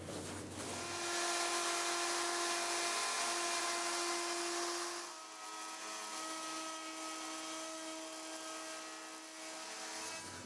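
Electric router cutting one side of a tenon into a split-top Roubo workbench slab, a loud steady high-pitched whine that runs continuously, easing slightly in load partway through.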